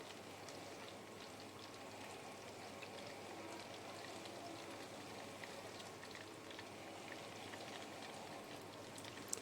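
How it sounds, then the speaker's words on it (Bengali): Chicken pakoras deep-frying in hot oil, a faint, even rain-like hiss of fine bubbling crackle that holds steady without pause. "ছাকা তেলে ভাজলে একটু পকোড়াগুলো ভালো হয়"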